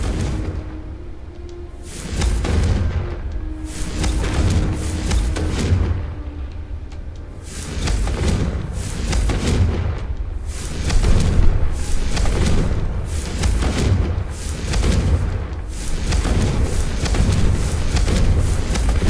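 Confringo blasting spell explosions in a Harry Potter video game, a rapid series of heavy booms and whooshing blasts, about a dozen loud close bursts in uneven succession over a rumbling background.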